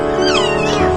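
A single loud, close meow with a rising then falling pitch, heard alone, from a rescued stray kitten.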